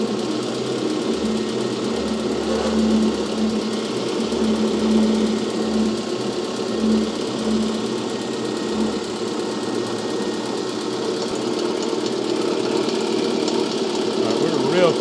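A Sellers 6G drill grinder's wheel spins up and runs with a steady, loud mechanical whine and hum, continuous throughout, while a person talks over it.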